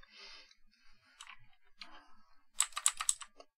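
Computer keyboard keys are tapped at close range while a server is set up. Scattered single clicks lead into a quick burst of several crisp presses. There is no talking.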